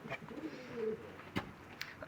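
Pigeons coo softly nearby in a low, rolling run of calls, followed by a couple of brief sharp knocks, with no talking heard.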